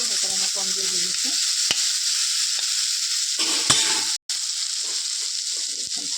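Bitter gourd frying in a covered pan over low heat, a steady hiss of sizzling oil with gentle stirring scrapes and light clinks throughout, one brief dropout near the end.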